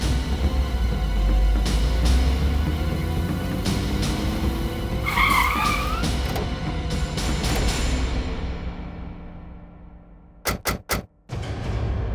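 A car skids with loud tire squeal amid tense horror-show drama scoring, a sustained screech over a rumbling backdrop, followed near the end by a few sharp percussive hits.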